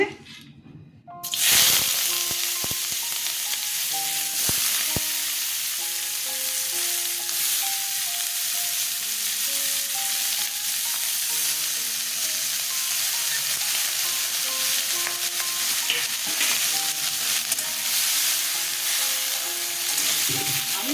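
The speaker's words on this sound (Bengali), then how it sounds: "সর্ষের তেল দিয়ে দিচ্ছি পেঁয়াজটা একটু ভেজে পেস্ট করে নেব তেল গরম হয়ে গেছে পেঁয়াজগুলো ছেড়ে দিচ্ছি" Onions sizzling in hot mustard oil for a katla fish curry, a loud, steady crackling fry that bursts in after a quiet start and holds for the rest, with occasional stirring knocks and no talking.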